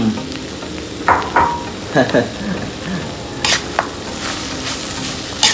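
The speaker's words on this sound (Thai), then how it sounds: "ผมผัดเผ็ดหนูนา" Spicy rice-field rat stir-fried in a pan, with sizzling under repeated scraping and clattering stirring strokes, close and moderately loud, with some brief talk in the background.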